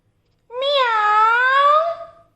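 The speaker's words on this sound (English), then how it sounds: "What's the sound of the cat?" One clear, drawn-out cat meow, close and loud, rising and then slowly falling in pitch over about a second and a half, heard alone against silence.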